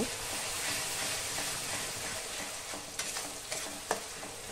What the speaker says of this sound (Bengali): ধনিয়ার পেস্ট অ্যাড করার পরে গ্যাসের ফ্লেমটা একদম লো করে আমি মশলাটাকে ভালো করে কষিয়ে নেব।